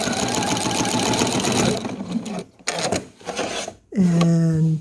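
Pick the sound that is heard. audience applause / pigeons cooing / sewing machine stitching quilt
sewing machine stitching quilt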